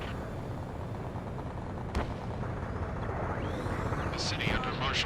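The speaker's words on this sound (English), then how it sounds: "Gunfire and the roar of jets echoing through the streets." Rumbling explosive gunfire with a sharp crack, then jet engines roaring and sweeping past over a continuous low din of battle, in the video game Ace Combat 7.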